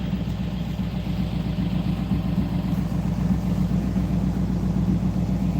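A classic Ford car engine runs at a steady idle, a loud, even, rhythmic low rumble that continues alone without letting up.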